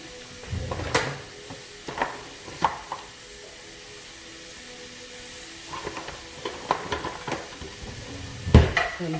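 Ground beef browning in olive oil in a cast iron skillet, a low continuous sizzle punctuated by scattered knocks and scrapes of a spatula breaking up the meat, close by with no voices.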